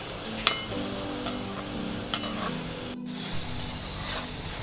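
Gulab jamun balls deep frying in hot oil, a soft steady bubbling sizzle punctuated by a few light clinks of a utensil, close and without speech.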